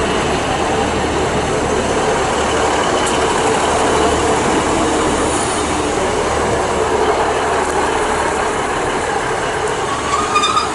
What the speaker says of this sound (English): arriving in now is going to be the 2138 Great Western Railway service to Cardiff Central